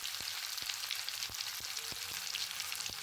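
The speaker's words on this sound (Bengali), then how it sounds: "তেল গরম হয়ে গিয়েছে, তাই আমি এর মধ্যে একটা করে বল ছেড়ে দিচ্ছি।" Potato cheese balls frying in hot white oil, a steady close hiss and sizzle with a few soft clicks and taps, no voices.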